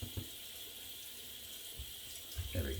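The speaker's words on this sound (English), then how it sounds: "rinsing off the razor" Tap water runs steadily into a bathroom sink as a razor is rinsed under the stream, a close, even hiss with a few brief clinks and splashes, and no one speaks.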